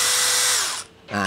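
A DeWalt DCD703 12V brushless drill whines loudly at speed, then spins down gradually without braking, the pitch sliding lower before the sound fades to near silence for a moment and then picks up again.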